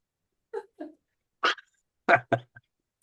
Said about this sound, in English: I don't know if you can hear the banging on my door.